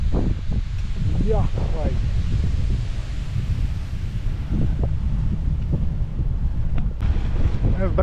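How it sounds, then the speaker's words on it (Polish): Steady wind rumbles and buffets the microphone near open water, with a few faint bird-like chirps and speech fragments scattered through. "Od tej wody trochę wieje."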